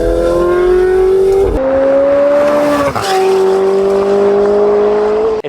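A McLaren 720S convertible with a Valvetronic exhaust revving hard, a loud, close, continuous high engine howl that rises in pitch, drops with each shift and climbs again.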